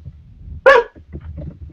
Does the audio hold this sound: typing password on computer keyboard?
no